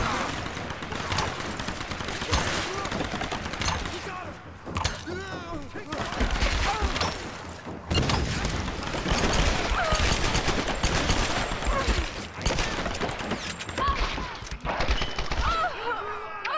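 Dense, sustained gunfire in the video game Tomb Raider: rapid automatic bursts and heavy shots overlap nearly nonstop at high volume, with shouting voices and shattering debris mixed in.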